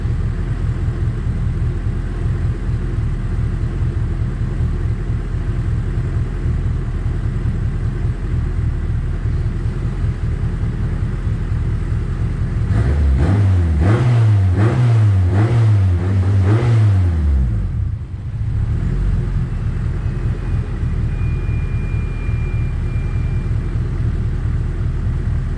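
A high-compression Honda D16Z6 engine idling steadily with a low rumble, then revving up and down in several quick rises for a few seconds before settling back to idle, loud and close.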